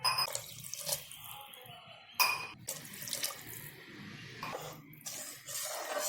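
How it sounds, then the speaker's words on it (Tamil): Water pours from a tumbler into a pot of mint rice, several bursts of splashing and trickling with short pauses between pours, close and fairly quiet. "இப்போ 4 டம்ளர் தண்ணி சேர்த்துக்கிறேன்."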